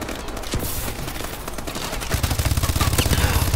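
A remote turret in Call of Duty: Advanced Warfare opens up with fast, steady automatic fire, the rattling bursts growing louder and more continuous in the second half over busy battle noise.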